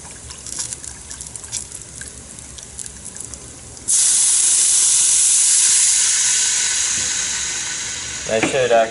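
A cup of broth poured into a hot pan for coriander rice bursts into a loud, steady hiss of steam that fades slowly and then breaks into bubbling, after a quieter stretch of faint cooking noise.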